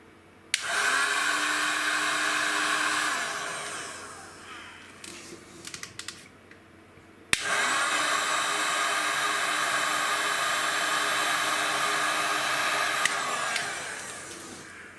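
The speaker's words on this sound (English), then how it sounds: "a really handy tool is these heat guns" Handheld heat gun blowing hot air during a MOSFET install on a Tokyo Marui SCAR-H airsoft rifle: a steady loud whooshing roar runs for several seconds, cuts briefly with a few clicks, then restarts and continues steadily.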